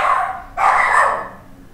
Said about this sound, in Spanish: Mi perrito se vuelve loquito.